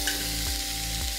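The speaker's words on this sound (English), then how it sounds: "And that sizzle is what we wanna hear." A fish fillet sizzles loudly and steadily on a hot grill, a dense crackling hiss with a few soft knocks and no talking.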